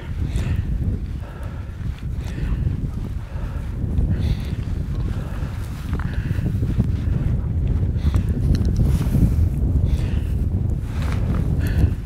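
Strong outdoor wind buffeting the microphone on a hunting trip, a continuous low rumbling roar with faint rustling and movement sounds, no clear talking.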